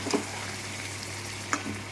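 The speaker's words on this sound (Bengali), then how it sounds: "এ দেখো গরম জল দিচ্ছি, আমি মাংসে সবসময় গরম জল ইউজ করি।" Chicken fries in a pan while hot water is poured in, giving a steady sizzle with a few soft pops and clinks near the start and later. The sound is close and moderately loud, with no talking.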